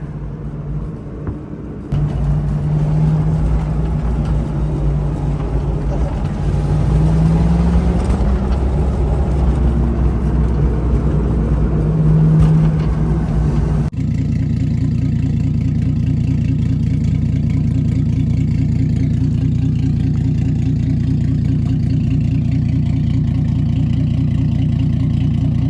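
A Ford Foxbody Mustang 5.0 fitted with a 1JZ turbo engine runs loud and close, revving with rising and falling pitch before settling into a steady, lumpy idle.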